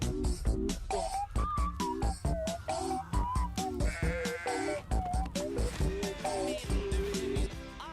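A goat bleats over and over in a Goat Simulator video game trailer, loud wavering cries repeating in quick succession over a busy backing of music and effects.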